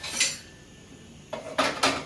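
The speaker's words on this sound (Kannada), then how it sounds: "ಇಲ್ಲೆಲ್ಲ ಪಾತ್ರೆ ಎಲ್ಲ ಬಿಟ್ಟಿತ್ತು, ಅವನ್ನೆಲ್ಲ ನೀಟಾಗಿ ಸ್ವಲ್ಪ ಜೋಡಿಸಿ ಹೊಂದಿಸಿ ಇಡ್ತಾಯಿದ್ದೀನಿ ನೋಡಿರಿ" Kitchen pots and utensils being tidied and stacked, with a soft clink near the start, a quiet pause, then several louder close metallic clanks and scrapes toward the end.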